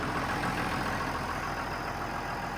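A Ferguson tractor's non-turbo six-cylinder Perkins diesel engine idles steadily, with a rough, rapid knocking chug that stays even and close throughout.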